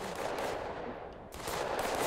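Sustained rapid automatic fire from a UMG gun in the zombie game Zombielator, a dense continuous roar of shots with a brief dip midway, close and loud, no talking.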